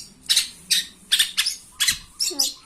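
A shrike, the tengkek buto, squawks in a steady series of about seven harsh, scratchy calls, close and loud, spaced roughly evenly with short gaps of quiet between them.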